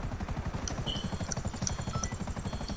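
A helicopter in a GTA video game gives off a steady, rapid rotor chop with a low throbbing pulse throughout, loud and continuous, and no one speaks over it.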